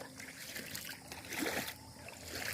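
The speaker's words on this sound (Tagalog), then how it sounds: "guys, daming tubig" Water trickles and flows faintly but steadily on a farm in San Miguel, Bohol, a soft continuous gurgle with a brief swell midway and no talking.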